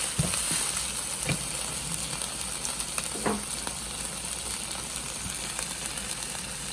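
Chicken drumsticks being tossed with oyster sauce in a hot pan give a continuous even sizzle with scattered soft scrapes and clicks of stirring, fairly quiet and without speech.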